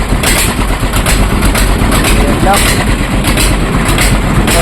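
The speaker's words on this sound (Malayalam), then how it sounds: "അതിന് ശേഷം സൈലൻസർ എല്ലാം ഫിറ്റ് അതുകൊണ്ടാണ് സൗണ്ട് ഒക്കെ കൂടുതൽ നടക്കുന്നത്" A vehicle engine runs steadily with its silencer newly refitted after engine work, giving a loud, continuous low rumble close by while a person talks over it.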